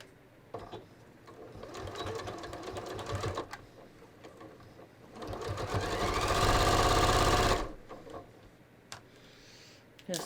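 A sewing machine runs in short bursts, then a long steady stitching run across the center front of ready-to-wear pants, its fast rhythmic whir rising and stopping abruptly, with pauses of near silence between.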